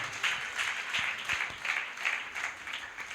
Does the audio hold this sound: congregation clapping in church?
yes